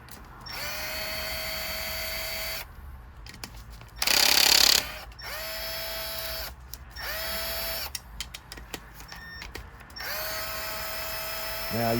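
Several bursts from a power tool loosening the bolts on a Suzuki M109R stator cover, each whirring run rising then cutting off, with one louder harsher burst in the middle and brief clicks between, close and loud.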